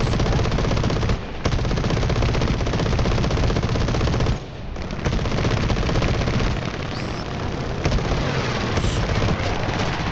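Machine guns from a fighter plane in the War Thunder combat game fire in long, loud, continuous bursts over engine roar, with two brief gaps in the firing.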